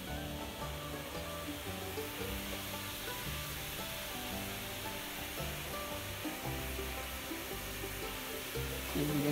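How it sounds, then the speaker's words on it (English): Steady broadband bubbling and hissing of water at a rolling boil, continuous and close, with a low rumble underneath and no voices. "you can see the water is boiling."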